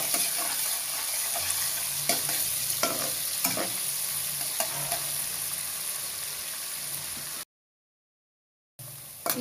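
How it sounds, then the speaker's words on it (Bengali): Chopped onion fries in a pan with spiced oil for haleem, a continuous close sizzle broken by regular spoon stirs and scrapes; the sound cuts out briefly before resuming. "পেঁয়াজটা একটু ভাজা লমু"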